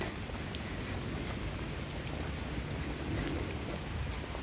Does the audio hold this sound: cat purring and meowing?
no